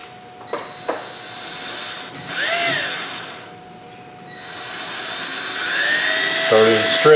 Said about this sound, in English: A little prick at each spot to hold that drill bit in place.